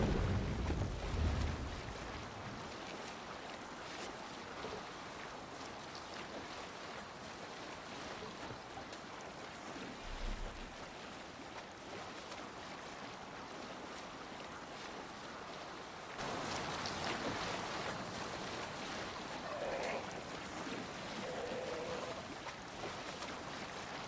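Wind and sea wash around a sailing longship on open water in the Viking-era game Assassin's Creed Valhalla, a steady broad rush of waves and wind that swells louder in the final stretch.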